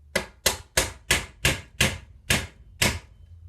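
A plastic hammer taps a part into a Stihl 032 AV chainsaw during reassembly, eight sharp, evenly spaced knocks ringing out close and clear with no talk.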